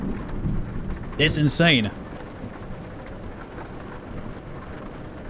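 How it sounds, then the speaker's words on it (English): Rain falls steadily with rumbling thunder in the Euro Truck Simulator 2 driving game, a loud rolling burst near the start easing back to a constant wash of rain, while a voice speaks briefly over it. "I'm confused about the fact that it's raining right now for me"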